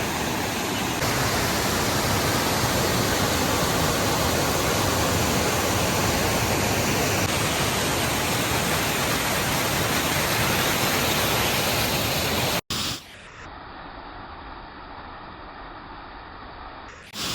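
Tegenungan Waterfall in Bali roars as a steady, loud broadband rush of falling water for about twelve seconds, then cuts to a quieter, more muffled stretch of continuous water noise.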